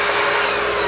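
A saw cutting a 2x4 board at a 22.5-degree angle gives a brief, loud, continuous grinding whine with no pauses.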